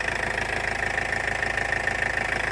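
A 27-year-old Land Rover engine, left standing on a driveway for six or seven years, idles steadily with an even, pulsing knock, close and constant throughout.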